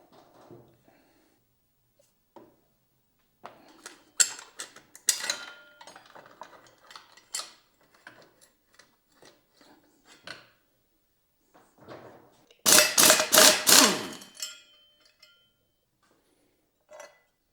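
Work on the rear wheel and sprocket of a 2022-2025 Honda Grom produces sparse metallic clinks, taps and clatters of tools and parts close by, then a louder burst of rattling near the end, separated by quiet gaps.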